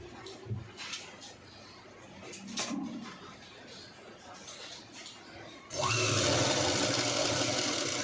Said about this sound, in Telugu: మెజర్మెంట్ ప్రకారం స్టిచ్